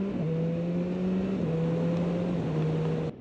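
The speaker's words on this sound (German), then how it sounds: "Jetzt sollte eigentlich auch noch ein bisschen Motorradsound ankommen" A motorcycle engine drones steadily while riding, picked up by a DJI Mic 2 with noise reduction off, its hum stepping slightly in pitch with gear changes and load before cutting off abruptly near the end.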